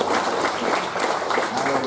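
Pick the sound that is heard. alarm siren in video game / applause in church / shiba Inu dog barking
applause in church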